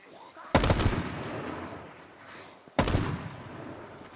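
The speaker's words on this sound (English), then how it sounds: "I shot him" Two sharp, loud gunshots ring out in the H1Z1 Just Survive survival game, about two seconds apart, each followed by a long echoing rumble that fades before the next.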